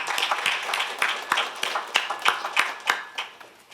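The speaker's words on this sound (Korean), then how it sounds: "환영의 박수로 맞아주시길 바랍니다." Scattered hand claps welcome the Seoul mayor at a meeting of the Korean council chairs' association. The claps are distinct and irregular and fairly quiet, suggesting a small group rather than a full crowd.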